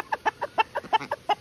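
A rooster clucks in a quick run of about eight short, close, evenly spaced notes.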